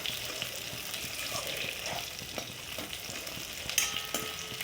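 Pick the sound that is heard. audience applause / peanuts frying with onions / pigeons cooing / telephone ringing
peanuts frying with onions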